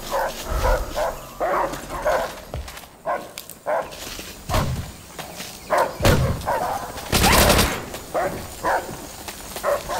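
Dogs barking in Call of Duty: World at War, a series of sharp, repeated barks and yips in bursts across the clip amid game noise.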